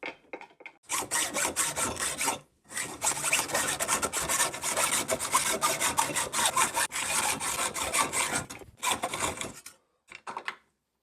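A dull hand saw cuts through steel mounted on a bench vise, loud rapid back-and-forth rasping strokes that run steadily for several seconds, pause briefly, then finish with a few short strokes.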